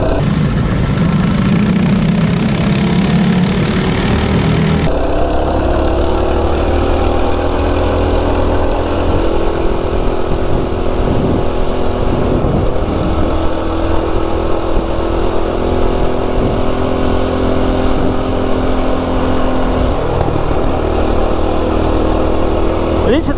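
Baja Warrior mini bike engine running steadily as it rides down a neighborhood street, a loud continuous small-engine drone with slight pitch shifts throughout.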